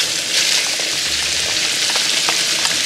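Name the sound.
peppers and onions frying with browned sausage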